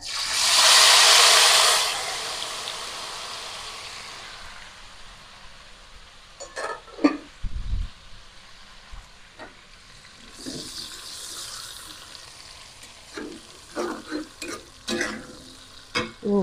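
Spice paste for a fried fish and petai dish hits hot oil in a pan with a loud, bright sizzle, which settles into a softer hiss broken by scraping, clinking stirs.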